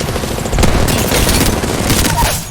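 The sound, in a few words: gunfire in the video game Apex Legends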